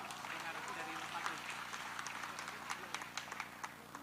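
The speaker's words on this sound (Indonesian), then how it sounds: "kita berikan aplaus untuk kita semua" Applause from a rally audience at a young entrepreneurs' volunteer declaration event: steady, fairly faint clapping from many hands, a crowd wash with scattered sharper claps, and no speech over it.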